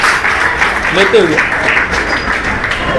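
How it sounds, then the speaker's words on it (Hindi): Applause from the audience at a school library's annual literary and cultural competition prize-giving: a dense, continuous wash of clapping with a voice briefly heard through it. "के लिए जोरदार तालियां"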